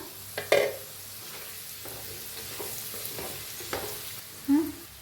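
Masala potatoes are stirred in a frying pan, with scraping strokes against a low steady sizzle and a few sharper knocks of the spoon, and no talk.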